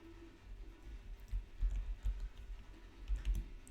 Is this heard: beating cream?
no